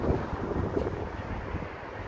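Wind buffets the microphone on an open observation deck above the Moscow River, a steady rumbling roar with gusty low thumps, close and moderately loud, with no voices.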